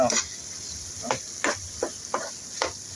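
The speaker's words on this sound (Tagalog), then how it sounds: "Halu-haluin lang natin yan para hindi masunog yung" A spoon stirs chicken curry masala with spice powder in a hot pan, giving a steady sizzle under a string of five or six short scraping strokes at an uneven pace.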